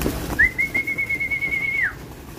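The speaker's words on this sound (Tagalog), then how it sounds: "Grabe gutom na mga ibon natin, no?" A pigeon or dove at a feeding spot gives a single sustained whistle-like call of about a second and a half, close and clear over light background rustle.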